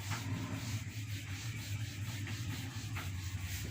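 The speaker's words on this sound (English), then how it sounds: "I'm rubbing this." Paper being rubbed during work on a handwritten math sum, a soft, steady scratchy rubbing close by that continues throughout, quiet and unbroken, with a low hum underneath.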